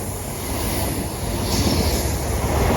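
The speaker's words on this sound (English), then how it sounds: "here comes the cross-country HST from Edinburgh to Plymouth" A Class 43 HST, 43184, on the CrossCountry Edinburgh to Plymouth service passes through University station in Birmingham, giving a loud, steady broadband rumble and roar that builds slightly, with a faint high whine above it.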